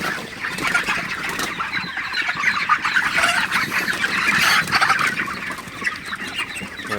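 Broiler chickens being shooed across a poultry shed on a hot morning cluck and squawk loudly, a busy, overlapping flock chorus that swells and dips without pause and carries no human voice.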